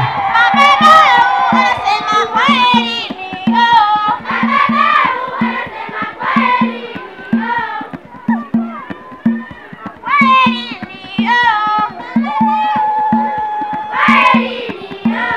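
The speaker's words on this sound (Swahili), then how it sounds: "Piga vigelegele kwa ajili ya watoto jamani." At a primary school graduation, a crowd ululates and cheers for the children, loud high trilling voices rising in repeated bursts over a steady drumbeat, with talk mixed in.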